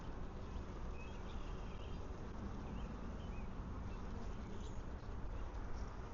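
Honeybees buzz steadily around an open hive frame, a dense, quiet hum that stays even and continuous throughout.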